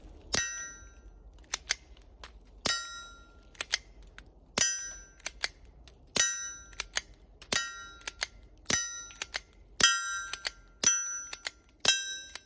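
A suppressed Sig Mosquito pistol fires about a dozen sharp, cracking shots outdoors, each with a bright metallic ring, spaced irregularly about a second apart, at moderate volume with quiet gaps between.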